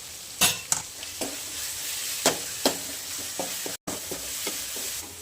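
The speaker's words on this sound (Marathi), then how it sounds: "कांदा परतत आहे" Onions sizzling in a pan while a spatula scrapes and stirs in several sharp, irregular strokes, close by and fairly loud.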